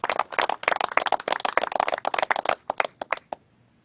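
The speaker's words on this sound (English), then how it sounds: "So can we give them a round of applause too, please?" At a governors' border security press event, a small crowd claps for National Guard and law enforcement, sharp close hand claps for about three seconds that thin out to a few scattered claps before stopping.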